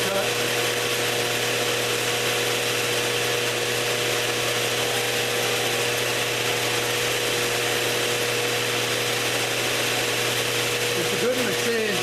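A CNC mill drill with 5-axis control makes a cut, producing a loud, steady whine and mechanical hum with tonal lines that holds for the whole stretch, with a brief shift near the end.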